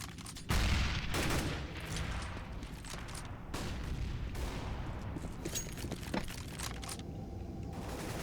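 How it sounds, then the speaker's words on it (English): Rapid bursts of gunfire and explosions in a CS:GO match as a grenade is thrown, loud crackling shots and booms layered densely throughout with no clear pauses. "I'm throwing a grenade"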